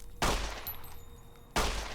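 Two sharp gunshots in Fallout: New Vegas, each a loud sudden blast with a short ringing tail, about a second and a half apart, with quieter game ambience between them.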